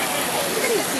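A garden water fountain splashes in a steady, dense rush of falling water, close and fairly loud, with faint voices mixed in.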